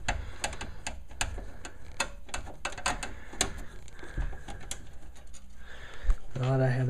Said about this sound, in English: I do that by unscrewing one of the screws.